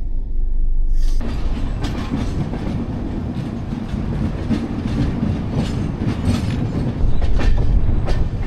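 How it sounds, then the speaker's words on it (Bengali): The 12703 Falaknuma Express pulls out of Khurda Road, its wheels beating a loud, steady clickety-clack over the rail joints, heard from on board with the rumble rising slightly near the end. "খুর্দা রোড থেকে ট্রেন ছাড়লো"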